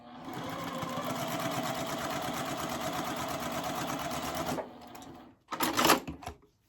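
Sewing machine stitching cotton quilt pieces for a mystery puzzle quilt, a steady rapid mechanical chatter for several seconds that stops abruptly, followed by a short burst of fabric handling noise.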